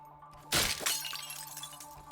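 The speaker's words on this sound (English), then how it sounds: "Things shattering and just generally breaking." In the CyberCorp video game, something shatters with a sudden loud crash of breaking glass, then a second smaller burst follows and a low electronic hum continues underneath.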